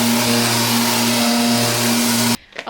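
A dust extractor roars loud and steady with a strong motor hum while a Honda Type R headlight is sanded during restoration. It cuts off abruptly near the end, leaving faint handling noises.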